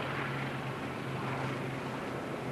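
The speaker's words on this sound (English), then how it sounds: "An old Dakota in the background." An old Douglas Dakota aircraft drones overhead, a steady low engine hum with broadband rushing noise, sustained and fairly faint at a distance.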